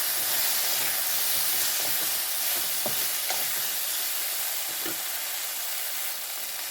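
Fish roe curry with a spoon of turmeric is stirred in a hot pan, giving a continuous loud sizzling hiss with a few soft scraping knocks, close and steady throughout.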